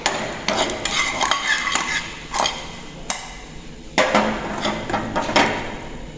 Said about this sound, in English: the roasted ingredients put in the pan and saute for just a few minutes